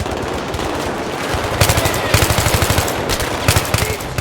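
Rapid machine gun bursts crackle through a firefight in the Battlefield 3 single-player campaign, with repeated staccato volleys over a dense, noisy battle ambience.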